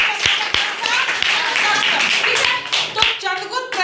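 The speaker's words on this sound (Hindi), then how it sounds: "जोरदार ताली बजाओ।" Students in a classroom clap together, a burst of sharp, close hand claps with uneven rhythm lasting a few seconds, loud and lively.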